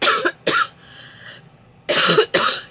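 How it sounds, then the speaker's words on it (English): A person sick with flu coughing indoors, two sharp coughs, a short pause with a faint breathy sound, then two more coughs, close to the microphone. "I keep coughing"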